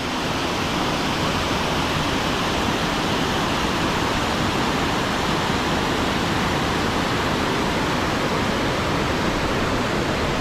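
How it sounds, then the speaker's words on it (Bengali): A river flowing down toward a waterfall at Mainpat, Chhattisgarh, makes a dense, unbroken rushing roar that stays loud and constant throughout, with no voices. "আর নদীটা আসছে এই দিক থেকে জলগুলো।"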